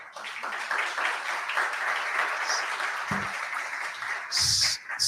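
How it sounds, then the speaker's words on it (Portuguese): Crowd applause fills the room in a sustained wash of clapping, with a couple of brief bumps and a short high tone near the end. "Por favor, salve de palmas para Camila."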